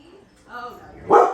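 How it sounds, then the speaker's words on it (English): A dog barks once, loud and close, right after a person speaks briefly. "Why barking?"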